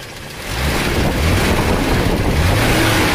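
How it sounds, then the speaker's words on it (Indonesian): Worn Toyota Kijang with the 5K engine idling steadily, a continuous low rumble with a light ticking in it, close and fairly loud throughout, with no voices. "Ini ada suara tek-tek dikit ya, nggak masalah, emang mobil sudah tua."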